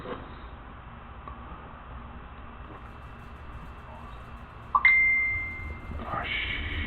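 A phone's notification ding comes in as a single bright, sustained tone partway through, over low room noise and game sound, followed by a second short chime.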